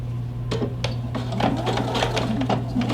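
A sewing machine sews a lapped zipper into a skirt with yellow thread, a steady hum under short bursts of clattering stitches as it back stitches.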